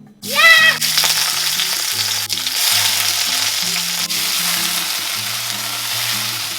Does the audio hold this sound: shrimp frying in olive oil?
yes